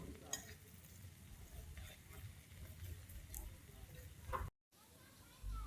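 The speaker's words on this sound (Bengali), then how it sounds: "আমি এরকমভাবে কাটা চামচের সাহায্যে একটু ছাড়িয়ে নেব" Fried laccha vermicelli (semai) is lifted from the pan and pulled apart with a slotted spoon, giving soft scraping and clinking over a low sizzle of oil, with a brief dropout near the end.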